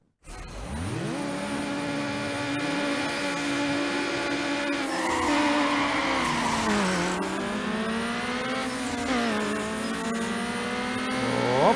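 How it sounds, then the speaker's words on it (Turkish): A tuned street racer in Need for Speed Underground revs and accelerates through gear shifts, its nitro boost whooshing in with rising engine pitch, loud and continuous with no talking. "Nitronun sesi değişmiş hala."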